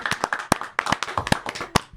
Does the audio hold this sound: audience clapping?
yes